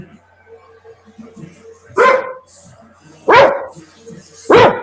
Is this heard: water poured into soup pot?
no